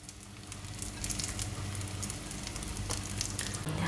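Karimeen fish frying in a pan, a loud, continuous sizzle with bursts of sharp crackling spatters and a faint stirring scrape near the end, no voices.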